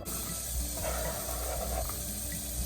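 Pears tipped into a hot sizzling pan for spiced pear jam give a steady hiss and crackle, close and continuous, with a brief brighter burst of frying partway through and no talk.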